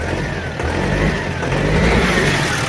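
A lorry's diesel engine runs close by after an alternator belt fitting, a steady mid-pitched rumble with a slight rise in revs; loud and continuous with no talking.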